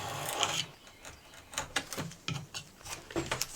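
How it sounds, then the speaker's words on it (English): Loose wood veneer being cut and scraped back from an antique mirror frame, a close, dry rasping in uneven bursts and short strokes. "Just cutting that veneer back."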